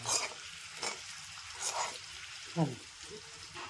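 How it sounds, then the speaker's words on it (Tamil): Eggs frying in a pan with salt and chili while a spoon stirs them, giving intermittent scraping strokes over a steady close sizzle, with one sharper clatter near the end. "முட்டை கொஞ்ச நேரம் வறுத்துட்டு இப்போ முட்டையை எடுத்துக்கணும்"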